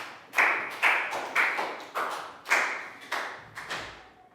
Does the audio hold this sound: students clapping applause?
yes